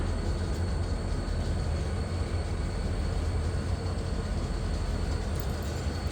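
Freight train with hopper cars switching in a rail yard at night, a steady, loud rumble of rolling cars and low engine drone throughout, with no talk.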